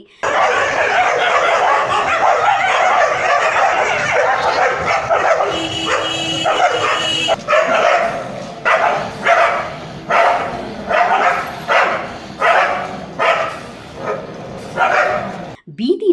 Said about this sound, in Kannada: ಹತ್ತರಿಂದ ಹದಿನೈದು ನಾಯಿಗಳ ಹಿಂಡು ಗಲ್ಲಿ ಗಲ್ಲಿಗಳಲ್ಲಿ ಓಡಾಡುತ್ತಿರುವುದರಿಂದ ಜನರಲ್ಲಿ ಭಯದ ವಾತಾವರಣ ನಿರ್ಮಾಣವಾಗಿದೆ